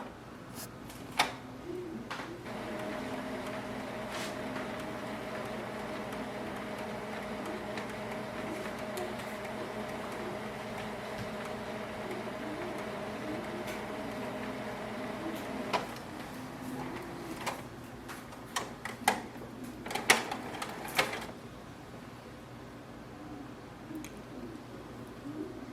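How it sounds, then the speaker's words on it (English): Canon Maxify GX3020 printer running after a restart, a steady mechanical hum with sliding carriage movements and scattered clicks and clunks, close and fairly quiet. "plug it in again and restart the printer"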